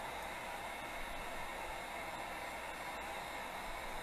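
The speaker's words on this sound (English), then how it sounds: "The heat gun will also kind of help move the resin here in this step." Heat gun blowing hot air over freshly poured ocean-style resin coasters, a steady, loud, even broadband rush that holds unbroken from start to finish with no talking.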